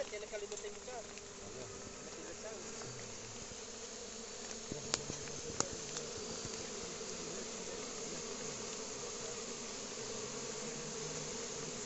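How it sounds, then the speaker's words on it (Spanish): A swarm of honeybees drones steadily in an open field in the Dominican Republic during hive work, a dense continuous buzz close by, with a couple of faint clicks and brief bits of distant speech. "Ay, pero son muchas. Allá van enjambre, vea, para afuera."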